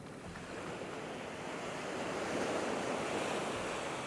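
Ocean waves and surf wash steadily onto Nang Thong Beach in Khao Lak, Thailand, a continuous broad roar mixed with wind noise, moderately faint and with no voices.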